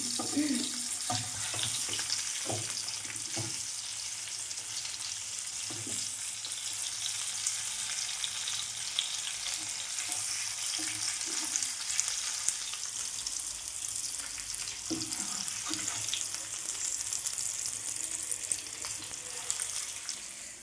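Cauliflower frying in a pan with a steady, dense sizzle throughout, broken by a few soft knocks and scrapes as the pieces are flipped, with faint background hum.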